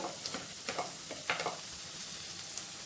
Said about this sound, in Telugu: ఆనియన్స్ కొద్దిగా ఫ్రై అయిన తర్వాత ఇందులో క్యారెట్ పీసెస్ వేసేసుకున్నాము